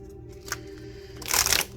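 Tarot cards shuffled up close before a reading, a soft riffle that swells into a brisk, loud burst of flicking card edges near the end.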